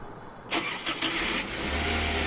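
An old Toyota Hiace van's engine cranks briefly after a quiet moment, catches and settles into a steady, close idle. No one speaks.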